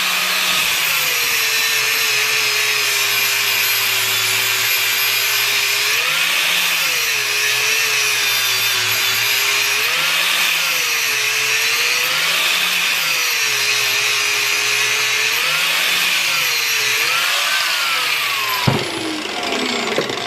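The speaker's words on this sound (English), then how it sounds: "we're going to give it another quick grind" Steady loud whine of a power grinder working a small metal piece for a bird feeder, held in a vise; the tone dips in regular pulses every couple of seconds as the part is worked, alone without talk, ending with a brief clank.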